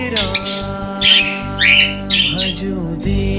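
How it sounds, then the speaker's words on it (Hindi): Birds squawk and chirp in short, loud bursts close by, several sharp calls repeating in quick succession over a low background hum. "यहाँ पक्षियों की चहचहाहट में राम का नाम है।"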